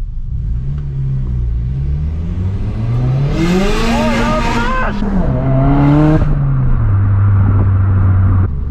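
A Renault with freshly reworked gearbox and new clutch revs hard nearby, its engine note climbing and falling through two loud throttle blips before settling back to a deep idle rumble.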